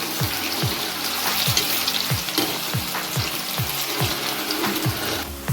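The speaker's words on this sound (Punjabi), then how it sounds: "ਹੁਣ ਉਹਦੇ ਵਿੱਚ ਆਪਾਂ ਪਹਿਲਾਂ ਲਸਣ ਤੇ ਅਦਰਕ ਪਾਵਾਂਗੇ ਇਸ ਨੂੰ ਚੰਗੀ ਤਰ੍ਹਾਂ ਭੁੰਨ ਲਵਾਂਗੇ" Garlic and ginger fry in hot oil with a steady close sizzle, broken by regular scraping stirs roughly every half second throughout.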